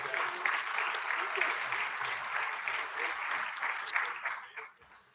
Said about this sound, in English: Let's once again give a round of applause to all of our graduates